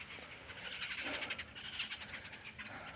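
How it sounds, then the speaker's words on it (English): Five or six birds fight nearby with noisy, overlapping harsh calls in a continuous squabbling chorus, and no one speaks. "5 or 6 birds are fighting over there,"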